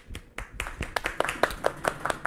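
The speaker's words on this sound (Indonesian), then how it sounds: "Tepuk tangan untuk Sitorus." Scattered claps from a small audience applauding a speaker at a philosophy presentation, a brief irregular burst of hand claps that builds slightly over a couple of seconds with no talk.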